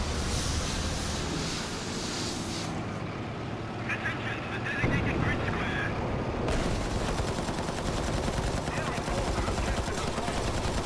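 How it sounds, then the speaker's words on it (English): Machine gun fire from a tank in War Thunder, a rapid rattling stream of shots over engine rumble, with someone talking over much of it. "All I could do was line him up and hit him with machine guns to mark him"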